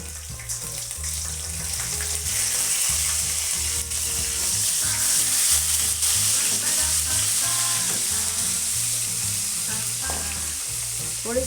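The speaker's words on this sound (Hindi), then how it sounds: "थोड़ी सी देर 1 मिनट हम लहसुन अदरक को भूनेंगे बस" Garlic-ginger paste sizzles steadily in hot oil with nigella seeds and cumin, the start of a pumpkin sabzi; a loud, continuous frying hiss runs throughout with no talking.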